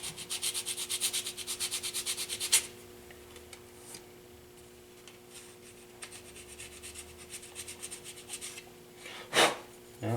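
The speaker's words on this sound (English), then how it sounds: "I'm going to go ahead and file it first. I just have an old rasp file." Old rasp file scraping a plastic HO scale model warehouse part, rapid rhythmic rubbing strokes up close at first, then quieter intermittent scrapes with a few louder sharp strokes.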